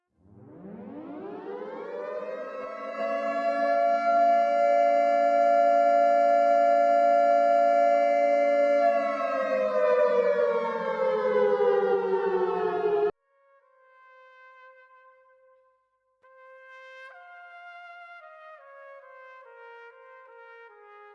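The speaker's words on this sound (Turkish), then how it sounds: "saat 9'u 5 geçe çalan siren sesiyle birlikte saygı duruşunda bulunulması" A civil defense siren wails during an Atatürk memorial ceremony in Gaziantep's Democracy Square, rising to a long steady loud tone that slowly falls away, followed by a quieter stepped, descending melodic tone sequence.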